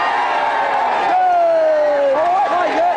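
Studio audience at a video game quiz show cheering for a team, a loud sustained crowd roar with whoops and yells throughout.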